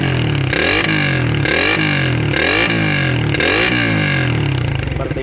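A Suzuki Satria FU motorcycle fitted with a loud aftermarket exhaust revs hard four times in a row, each sharp rise and drop close and loud, before the engine settles toward idle.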